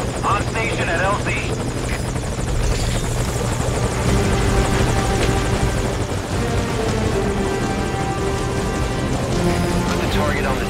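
Helicopter in the video game Metal Gear Solid V: Ground Zeroes, a loud, steady rotor thrum and engine whine holding close and constant throughout.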